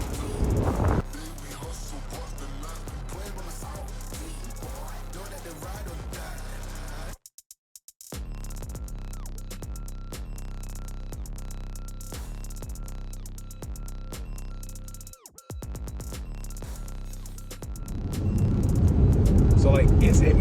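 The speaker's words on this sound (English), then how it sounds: "we're on the highway. We're driving." A car cruising down a highway, its steady, loud road and engine rumble running continuously, with a brief drop-out partway through and a swell of louder noise near the end.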